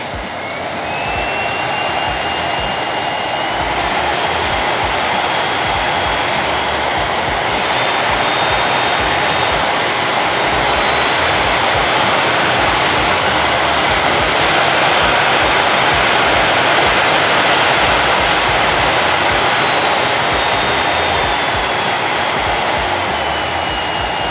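A Miele C3 vacuum cleaner with a turbo tool runs on its maximum power setting, giving a loud, steady close-up roar with a high whine that rises slightly in pitch partway through, no voices.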